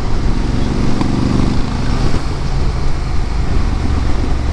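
A motorcycle, likely a Ducati Desert X, runs loud and close with a steady rumbling engine drone mixed with wind and road noise, its pitch rising briefly in a short rev early on.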